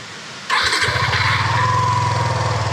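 A motorcycle engine fires up abruptly and settles into a steady, close idle with a rapid pulsing rumble.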